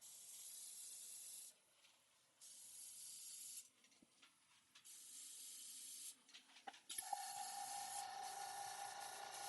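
An airbrush sprays paint in even strokes, a close, steady hiss that starts and stops in repeated bursts, with short quiet gaps and light handling noises between passes.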